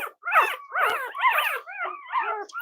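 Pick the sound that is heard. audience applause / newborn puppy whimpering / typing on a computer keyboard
newborn puppy whimpering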